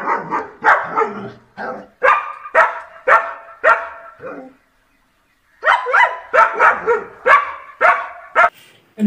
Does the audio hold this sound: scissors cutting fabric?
no